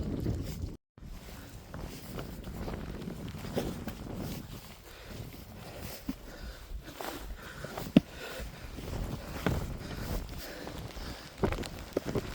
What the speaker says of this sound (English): Oh my goodness, it's windy.